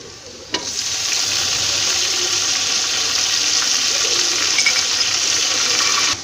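Chopped tomatoes drop into a pan of fried ginger and garlic for chana pulao, setting off a sudden loud, steady rush of sizzling that holds evenly until it cuts off at the end.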